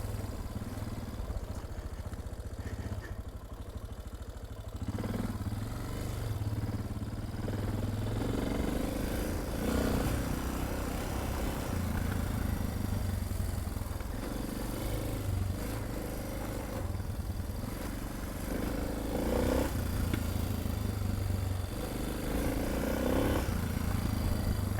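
A Suzuki DR650 motorcycle rides a dirt trail, its single-cylinder engine thrumming steadily and rising and falling with the terrain, amid rattles and wind noise, heard from on board.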